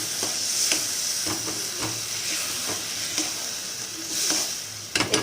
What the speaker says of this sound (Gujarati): હવે આપણે પાલકની પેસ્ટ એડ કરીશું અને પાછું 1-2 મિનિટ હલાવીશું